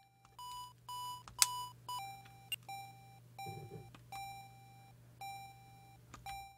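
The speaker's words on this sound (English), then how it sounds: "Not quite sure what the beepy beeps are." Electronic beeps from a ColecoVision video game: repeated short tones at shifting pitches, evenly spaced with a few quick clusters, over a constant low hum, no voices.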